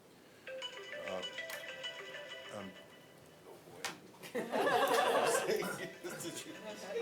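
A mobile phone rings during a county finance committee meeting, a faint electronic ring rising through murmured talk and chuckling, with a burst of laughter and chatter among the attendees.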